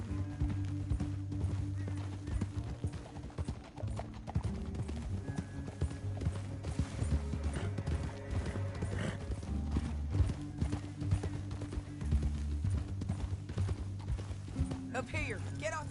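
Steady clip-clop of horse hooves from riding in Red Dead Redemption 2, continuous and close throughout, with voices talking over the hoofbeats and background game music.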